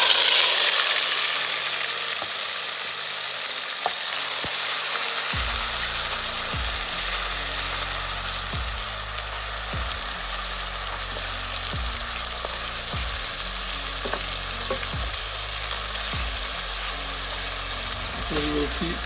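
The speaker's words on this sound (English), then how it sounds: "So we'll keep on sauteing it until it turns golden brown or brownish color" Onion and green chili puree sautéing in hot oil spiced with black pepper for a chicken curry, a steady close sizzle and frying hiss, joined by repeated soft clinks and scrapes of stirring.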